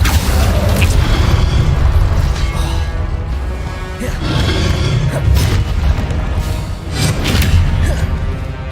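Repeated spell blasts from Confringo and Incendio casts in the Hogwarts Legacy video game, loud booming bursts with crackling fire layered over dense continuous game noise, several impacts spread across the stretch.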